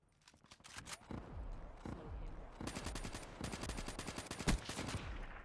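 Bursts of rapid fire from an inaccurate gun in a video game, sharp cracking shots in irregular volleys with short gaps, loud and close, building toward a heavier shot near the end.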